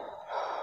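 A single heavy, breathy gasp from an elderly man, a short close rush of air that swells and fades.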